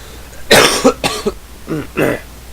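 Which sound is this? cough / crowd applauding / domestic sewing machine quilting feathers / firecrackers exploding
cough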